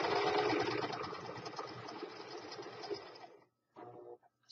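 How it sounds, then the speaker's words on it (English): A sewing machine runs steadily through a reverse stitch along the edge of a lace pillow, a close continuous whir that stops near the end, followed by a brief second burst. "I'm going to do a reverse stitch all the way to the edge"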